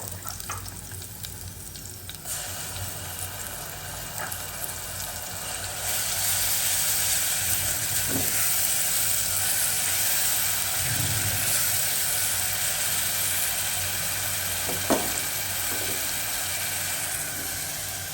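Onion, ginger and garlic frying in a pan while cooking fish for a beef liver bhuna: a steady close sizzle that grows louder and fuller partway through, with faint stirring knocks.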